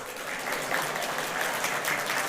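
A church congregation at a Sunday worship service claps hands together, a dense, moderately quiet patter of many hands sustained evenly for a couple of seconds.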